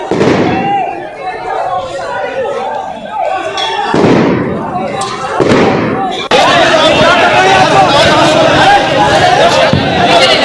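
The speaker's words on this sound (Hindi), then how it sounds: "उपद्रवियों ने फायरिंग के साथ बमबाजी भी की, जिसकी आवाज आप साफ तौर पर सुन सकते हैं।" Sharp cracks and booming blasts of gunfire and crude bombs go off during a street riot in Kanpur, several loud bursts at irregular intervals over a dense, continuous crowd roar and shouting.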